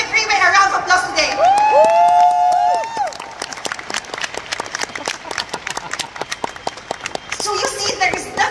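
At a business training seminar a loud voice rings out briefly, then a crowd's round of applause follows as scattered, crisp claps patter on steadily, moderately near and fairly even in volume.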